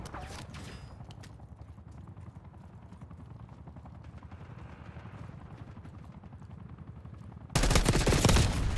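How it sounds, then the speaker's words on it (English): Steady rapid gunfire in a multiplayer shooter video game, a continuous distant-sounding rattle of shots, ending in a sudden loud close burst. "Being shot from somewhere else."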